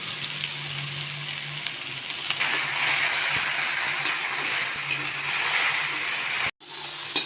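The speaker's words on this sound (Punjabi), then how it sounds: "ਭਿੰਡੀ ਨੂੰ ਆਪਾਂ ਕੰਟੀਨਿਊ ਹਿਲਾ ਕੇ ਫਰਾਈ ਕਰਾਂਗੇ" Okra frying in a kadai while being stirred continuously, restaurant-style masala bhindi with lemon juice added. A steady, close sizzling hiss grows louder after the first couple of seconds and cuts out briefly near the end.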